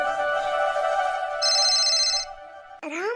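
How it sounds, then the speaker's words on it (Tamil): A mobile phone rings with an incoming call, a looping electronic ringtone melody that plays steadily and loud, changes pattern midway, then cuts to a sweeping tone at the end. No one talks over it. "ராமண்ணா நமக்கு போன் பண்றாங்களா?"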